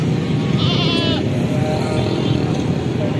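Goats bleat at a busy livestock market, one loud, wavering cry standing out over a constant dense background of crowd noise and distant traffic.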